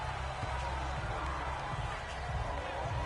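Stadium crowd at a Bills vs Chiefs Wild Card playoff football game, a steady broad roar of many voices filling the space without pause, muffled and constant.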